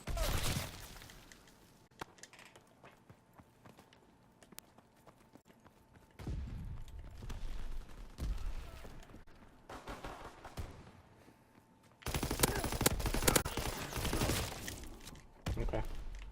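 Aircraft strafing gunfire from an enemy plane in Call of Duty WWII, a World War II shooter, arriving as bursts of cracking shots and impacts that swell loudly near the end, mixed with game noise and a voice talking.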